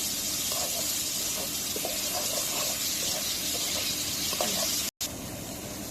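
Spices such as turmeric and coriander powder with salt and green chillies frying in a pan, a steady close hiss and sizzle throughout with a brief break near the end.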